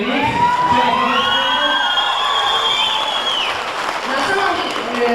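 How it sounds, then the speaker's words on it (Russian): A concert audience applauds and cheers a team in a loud, continuous wash of clapping with shouts and whoops, and voices and some higher tones run through it. "Давайте еще раз проводим бурными аплодисментами команды."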